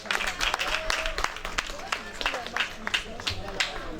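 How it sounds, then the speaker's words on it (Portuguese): Audience applause greeting a panel guest at a Portuguese-language hip hop talk event, dense steady clapping throughout with crowd noise, fairly loud and close. "Por favor, uma forte salva de palmas para Brown X."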